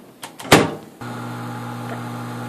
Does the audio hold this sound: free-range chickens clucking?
no